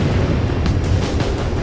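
Loud, deep rumbling blasts roll over one another without a break during an enemy air raid in a video game, a dense barrage of explosions.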